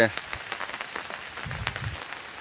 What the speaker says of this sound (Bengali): ছাতা নিয়ে রাস্তাটা জল পড়ছে